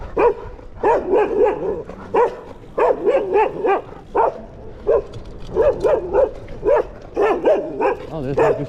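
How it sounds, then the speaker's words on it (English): A street dog in a Santiago neighborhood barks repeatedly while chasing a cyclist, with rapid, close, loud volleys of barks in quick bursts throughout. "Oh, this dog just keeps following me."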